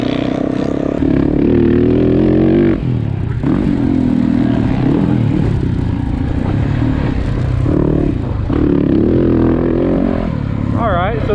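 A dirt bike engine roars loud and close on an Aztec motocross track, its drone rising and falling through revs for the whole stretch, with wind buffeting and rattling over it.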